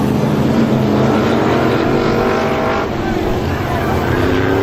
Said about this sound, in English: We got a big old wreck. Oh, the front straightaway.